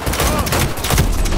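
Rapid gunfire in the video game Cyberpunk 2077 crackles through a short, dense burst of shots, loud and continuous, with voices faintly mixed into the battle.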